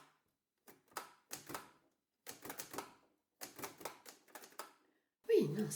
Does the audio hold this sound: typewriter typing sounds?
yes